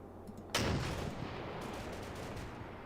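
One heavy gunshot or artillery blast booms in the Combat Mission Battle for Normandy video game, a loud sudden crack with a long rumbling decay, followed by fainter distant shots.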